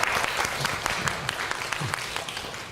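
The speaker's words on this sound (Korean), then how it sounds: "박수 한번 칩시다" A church congregation claps for the children's department during a Sunday service, dense crowd applause with sharp individual claps standing out, moderately loud and continuous throughout.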